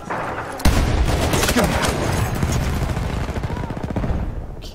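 Automatic weapon fire in Battlefield 1 rattles in a steady rapid stream of shots that starts abruptly and keeps going under the clamor of battle, with people talking over the din.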